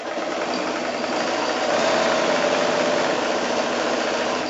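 Sewing machine running continuously while chain piecing quilt squares, a steady close mechanical whir without pauses.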